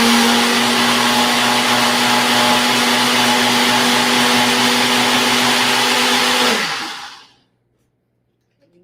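A countertop blender purees baby food, a loud steady motor whir with a strong humming tone running for about seven seconds before spinning down and stopping into silence.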